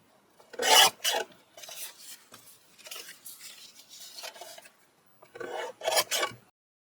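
Blade or craft knife trimming the edges off a paper ink swatch sheet: a few short, close rasping cuts in bursts with brief pauses between strokes.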